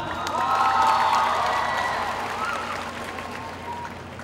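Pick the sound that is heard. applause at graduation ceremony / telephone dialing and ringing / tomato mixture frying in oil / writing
applause at graduation ceremony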